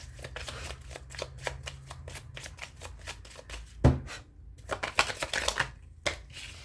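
A Gypsy oracle card deck is shuffled by hand in a quiet room, giving a rapid series of crisp riffling and flicking bursts with a louder slap partway through, close and distinct, with no talking.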